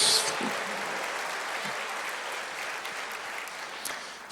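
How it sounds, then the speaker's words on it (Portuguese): A church congregation applauds continuously during a sermon, a thick, even wash of clapping that holds steady and fades slightly toward the end. "Aplauda ao Senhor"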